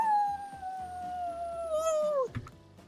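In the Dead by Daylight dating sim game, voices imitate wolves with one long, drawn-out howl that slowly glides downward and then breaks off, ringing out fairly clearly over a quiet background.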